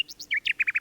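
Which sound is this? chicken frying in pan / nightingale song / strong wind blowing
nightingale song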